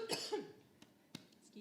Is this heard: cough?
yes